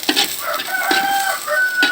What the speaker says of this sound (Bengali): দেখছেন মোরগটা ডাকতেছে